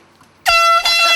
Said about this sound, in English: you hear the air horn not go off properly